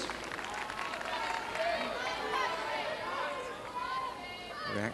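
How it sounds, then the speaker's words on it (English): A Wimbledon tennis crowd reacts during a Tim Henman match, a steady murmuring swell of many voices with scattered exclamations and a few claps, held at a moderate distance throughout. "Reaction of the crowd there, an indication of the expectancy that Tim Henman is living with so well."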